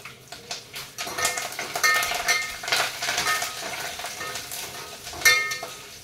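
Curry leaves hitting hot oil with green chillies and onion in a pan, a loud crackling sizzle that flares up in bursts, with a few light clinks of a utensil against the pan.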